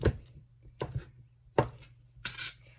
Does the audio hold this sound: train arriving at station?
no